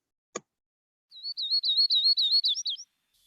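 A yellow-rumped warbler sings a single bright, rapid trill of closely spaced high chirps lasting under two seconds, heard alone and clearly after a brief click.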